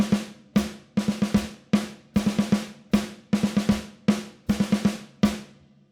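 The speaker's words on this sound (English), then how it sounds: "So it's a 4-stroke rough with a tap." Drum fill on a kit, a four-stroke ruff with a tap played on snare, quick grace-note clusters each ending in an accented hit, repeated in bursts over several bars, close and dry with no talking.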